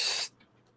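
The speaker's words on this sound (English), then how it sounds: "I'm just going to do this bit, so you'll hear me airbrush going" An airbrush fires one short, loud burst of paint spray, a bright hiss lasting about a quarter second before cutting off to near silence.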